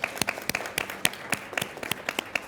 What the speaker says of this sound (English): So I'd like to give a big round of applause to the NDRC